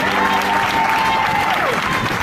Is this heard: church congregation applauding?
yes